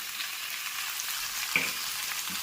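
Potato, shrimp and eggplant, already fried separately, are tipped together into a pan of hot oil, giving a continuous loud sizzle with a faint clink near the middle.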